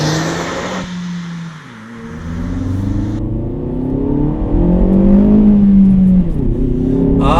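Hyundai Veloster Turbo R-Spec engine pulling away and climbing through the revs, a close, loud, steady whine and drone inside the car with no talk.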